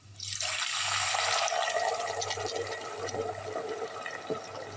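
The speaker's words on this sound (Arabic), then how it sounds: "وهنحط المية" Water pours steadily into a pot holding pasta fried in onion oil while making Egyptian koshari, a loud continuous rushing splash that starts abruptly and runs throughout.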